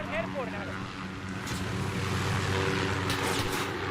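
A plane flies overhead in the Call of Duty Modern Warfare campaign, a steady engine drone with a rumbling low hum, heard close and continuous alongside game effects.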